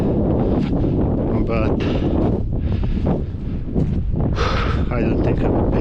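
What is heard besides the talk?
wind blowing across a pasture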